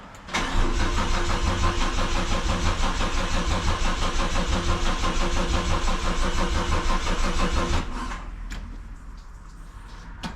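A BMW E36 coupe engine cranks with a rapid rhythmic churning for several seconds, then catches and settles into a quieter idle.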